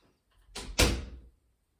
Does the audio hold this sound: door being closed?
yes